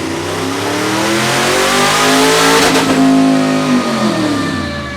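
A 7.0-litre, 427 cubic inch LS7 V8 revs hard on a dyno in a tuning shop, one loud sustained pull with rising then falling pitch, steady and close with no talk.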